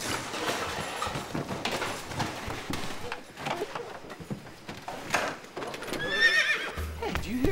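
A horse whinnies amid busy clip-clopping hooves and bustling sounds, with a voice briefly audible near the end.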